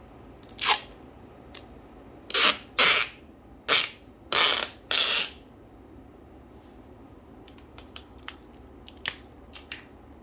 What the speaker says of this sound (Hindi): टेप मुझे पहले इस पेपर पे लगानी पड़ेगी, फिर मैं उसके ऊपर ओवरऑल इसको लगा दूँगा।